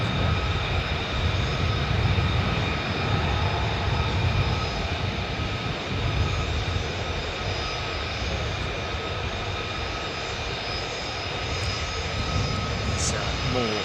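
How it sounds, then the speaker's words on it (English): A military tanker aircraft takes off from Mildenhall, its jet engines producing a continuous broad roar with steady whining tones, heard at a distance. "Another tanker going up from Mildenhall."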